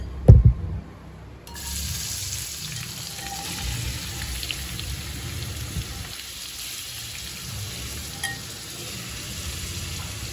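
Sliced onions and green chillies dropped into hot oil in a pan for a sweet crab gravy, an opening thud and splash, then a continuous close, fairly loud sizzle and crackle.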